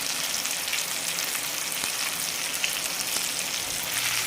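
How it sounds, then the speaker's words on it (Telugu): Chilli powder, salt and spices frying over medium flame for Telangana-style stuffed eggplant curry, a dense, even, rain-like sizzle that holds steady and close throughout. "ఇంగ్రీడియంట్స్ అన్నిటినీ మనం ఒక టెన్ మినిట్స్ మీడియం ఫ్లేమ్లో ఫ్రై చేసుకోవాలి"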